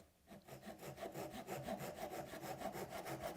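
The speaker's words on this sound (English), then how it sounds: "I'm using just a handsaw, Japanese pull saw, letting the blade ride right down the end grain" A Japanese pull saw cuts down the end grain of a small wooden piece for a picture frame, making steady rhythmic rasping strokes that sound close and even, with no talking.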